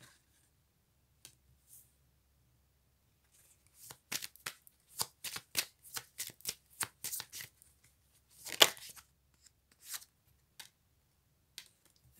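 Tarot-style cards shuffled for a card reading, a run of crisp riffling flicks and soft slaps up close in a quiet room, with one louder burst near the end.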